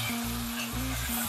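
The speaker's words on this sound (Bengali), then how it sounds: "ভালো করে মশলাটাকে ভেজে নেব।" Cumin and green chili paste frying in hot oil with a little water, a loud continuous sizzle with a spatula scraping and stirring in a repeating rhythm, close up and without talk.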